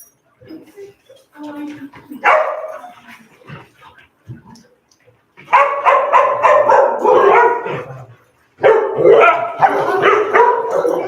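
Puppies at a socialization class bark and yip in bursts, several dogs overlapping in busy clusters with quieter gaps between, while people talk nearby.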